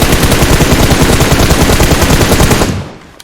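Rapid automatic gunfire in the mobile battle royale game PUBG Mobile, a loud, close burst of fast repeated shots lasting nearly three seconds before cutting off.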